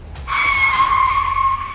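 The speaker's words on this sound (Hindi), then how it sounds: "अरे ओ ड्राइवर गाड़ी रोको" A vehicle skids to a stop with a loud, sustained tire squeal that starts abruptly and holds steady for over a second before easing off, heard alone without speech.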